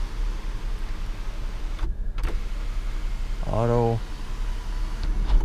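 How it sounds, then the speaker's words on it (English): A power shade and panoramic sunroof on a white 2015 Jeep Grand Cherokee Limited open with a short electric motor whir of about half a second, close by. It follows a brief spoken word, with a faint interior hum underneath. "Got the panoramic sunroof with the power shade."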